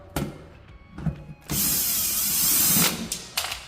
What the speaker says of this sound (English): So I should just take these last two screws out.